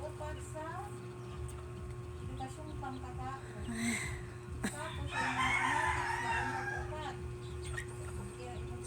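A small flock of tame bantam chickens clucks nearby, with a drawn-out crow rising in the middle, over a constant low background hum.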